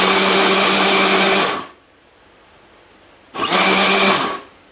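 A loud electric blender blending Arabian hareesa whirs in two bursts, running for over a second, stopping briefly, then starting again for another second.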